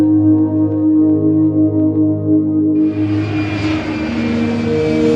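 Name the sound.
airliner engines humming steadily at cruising altitude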